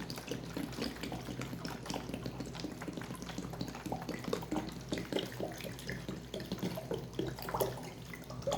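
Water runs and splashes steadily into a container while dongchimi, a Korean radish water kimchi, is being made, a continuous pouring stream with small clinks and bubbling at moderate volume.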